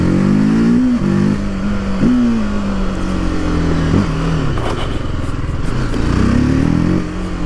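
A TVS Apache RTR 310 naked motorcycle engine revs repeatedly, loud and close, with its pitch climbing and dropping in several blips to higher RPM before settling, no talk over it.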